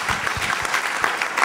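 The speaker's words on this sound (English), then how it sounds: "That question deserves a round of applause" Brief audience applause at a talk on neutrinos, a short burst of scattered claps from a modest crowd, fairly close and lively.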